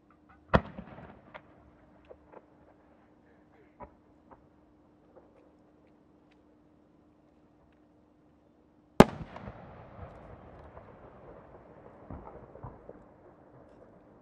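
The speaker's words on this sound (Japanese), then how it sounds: "新作花火。" Two sharp firework shells from Komatsu Enka Kogyo at the Omagari fireworks competition, one near the start and a louder one later, each followed by faint crackling and scattered pops over quiet background.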